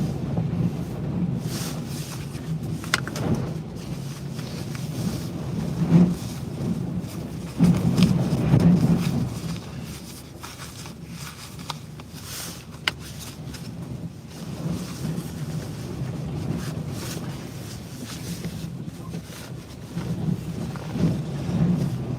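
Strong 90+ mph winds in the Columbia River Gorge buffet and roar continuously against the microphone, a heavy low rumble with gusty swells and a few sharp knocks, no voices.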